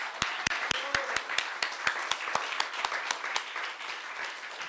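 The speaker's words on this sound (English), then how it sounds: "another round of applause for today" A plenary congress audience of the African People's Socialist Party applauds the chairman, dense clapping with sharp individual claps standing out, steady for several seconds in a large room.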